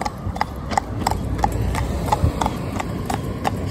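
Hooves of Flash, a pony, clip-clopping steadily on a town road in traffic, a regular rhythmic trot close by under low rumbling street noise, with no talking.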